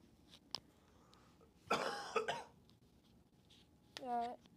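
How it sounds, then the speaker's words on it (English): Coughing from a person during a live college football playoff broadcast, Penn State versus SMU, heard as a couple of harsh, fairly close bursts, followed by a short rising vocal sound, over a quiet background. "Still coughing it up over here."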